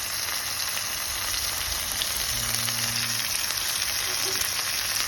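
Chopped tomato hits a hot pan of oil for a Bengali Katla fish curry, giving a steady, loud, continuous sizzle and frying hiss with no talking.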